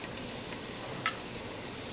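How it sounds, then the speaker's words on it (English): Minced garlic and onions sauté in a pan, giving a faint, steady sizzle throughout with one brief tick of a utensil partway through. "saute the garlic and the onions until the garlic gets nice and fragrant"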